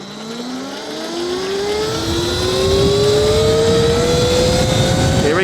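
An Alibaba EM5 electric bike speeds up on a road, its motor whine climbing steadily in pitch under loud rushing wind, growing louder and holding near full volume toward the end.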